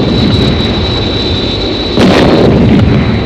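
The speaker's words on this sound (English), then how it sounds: "They may try ground-to-air missiles." Ground-to-air missile attack explosions in a TV puppet series, a loud continuous roaring rumble with a sharper burst of blast noise about two thirds of the way through, no speech.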